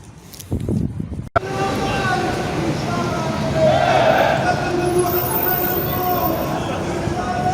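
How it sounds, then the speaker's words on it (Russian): Electric commuter trains run on a railway just behind a fence beside houses, a steady rolling rumble with a rising whine that persists after a brief rustle and voice at the start. "здесь за забором железка, где проходят электрички"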